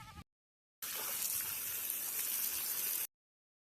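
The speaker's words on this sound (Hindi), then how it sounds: "अभी पानी चल रही होती देख सकते हो शुलुलुलु।" Irrigation water gushes steadily from a pipe in a chickpea field, a close, even hiss after a brief gap, with no talking.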